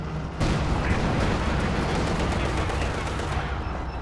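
MG34 machine gun fire in Company of Heroes 2, a steady rattling stream of shots within dense battlefield noise, loud and continuous after a sudden start, with a voice talking over it.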